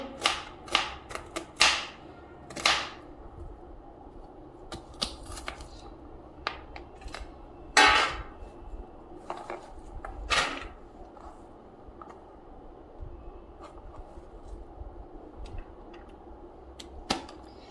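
Knife cutting thick onions into long slices on a board, a run of sharp, irregular chopping taps that is busiest early and then thins to lighter scattered cuts, close by over a steady background.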